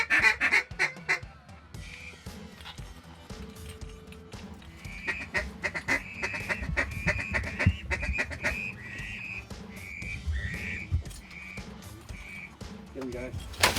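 Ducks quacking over decoys during a farm duck hunt, repeated calls in a busy stream under loud talk, splashes and outdoor noise.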